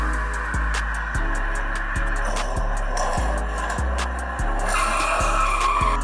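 Hot Wheels die-cast toy cars race down a track, giving a steady loud rolling rumble with sharp regular clicks about every half second as they pass track joints, and no voices.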